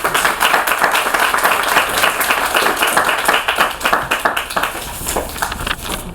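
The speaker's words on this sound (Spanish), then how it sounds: "Un aplauso para el autor y el lector." Audience applause at a book presentation for a short-story collection, steady dense clapping from a crowd indoors, loud and sustained throughout with little else over it.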